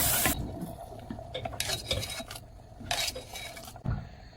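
A utensil stirs dhal and snake gourd coconut curry in a pan with a few scraping, clinking strokes, then stops, close up and with no voices.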